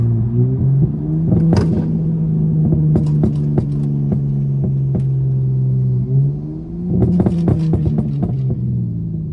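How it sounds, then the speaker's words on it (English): A tuned Dodge Charger SXT rumbles loudly from inside on a back road, its engine droning steadily while downshifts bring repeated sharp exhaust burbles and pops, first in a scattered run, then in a dense burst after the revs shift. "Get some downshifts real quick."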